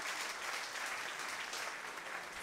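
Festival audience applauding the organisers, an even, steady patter of clapping heard quietly and from a distance throughout.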